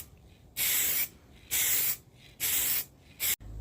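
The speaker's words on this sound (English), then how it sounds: "let's get this spray paint onto the locker" Spray paint hisses onto a locker in four bursts, three long even passes and a short final one, close and loud with quiet gaps between.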